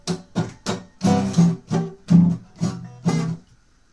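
A beginner strums a guitar unevenly in about eight rough, separate strokes, each one ringing briefly and choppily before the next, loud and close with no talking.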